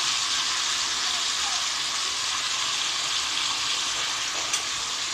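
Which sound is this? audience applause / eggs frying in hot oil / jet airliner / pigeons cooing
eggs frying in hot oil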